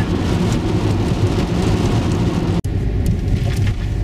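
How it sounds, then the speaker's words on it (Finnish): Steady rain falls during a trip in Israel, a dense continuous hiss over a low rumble that resembles a car interior, loud and unbroken apart from a brief click near the end. "sataa eka kerran matkallamme vettä"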